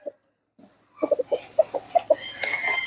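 Gamefowl rooster on a farm clucking in a quick series of short, close calls after a brief quiet start, with the rattle of farmyard noise building behind.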